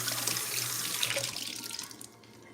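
Tap water runs steadily into a kitchen sink as grapes are washed, a broad close splashing hiss that thins and quiets toward the end.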